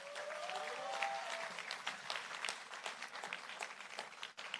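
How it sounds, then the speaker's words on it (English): An audience at a skill center commencement bursts into steady applause, many hands clapping in a dense, moderately distant wash, with a voice briefly audible at the start. "A round of applause for you once again"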